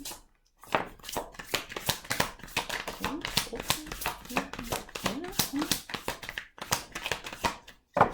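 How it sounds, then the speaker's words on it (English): A deck of tarot cards is shuffled close by in a rapid series of crisp riffles and slaps, with brief pauses between bursts. "One more shuffle."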